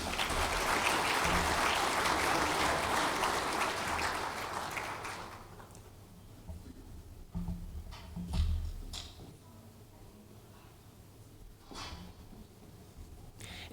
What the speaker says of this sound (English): Once again, a round of applause there.